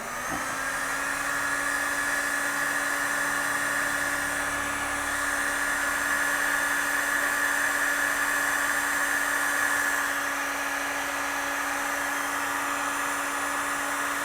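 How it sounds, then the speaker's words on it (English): A heat gun blows steadily on heat-shrink tubing over a crimped wire connector, a continuous even whirring hum with an airy hiss that holds unchanged and fairly loud throughout, alone without any talk. "So we will put the heater on it now."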